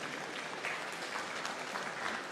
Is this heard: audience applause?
yes